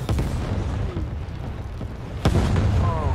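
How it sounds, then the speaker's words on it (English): Artillery fire in a military shooter video game, loud booming blasts with one sharp, heavy impact midway, over a rumbling battlefield bed and brief voice chatter. "Artillery fire incoming."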